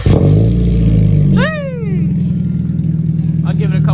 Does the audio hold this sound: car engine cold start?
yes